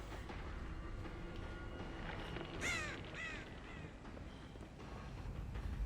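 Crow caws from the video game Dead by Daylight, two short hoarse calls in quick succession partway through, set against a dense, constant game soundscape with a low rumbling bed.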